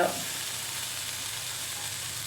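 Fish roe sizzles in a hot pan as it fries, a steady close hiss of oil with no talking, for a Kasaragod-style fish fry.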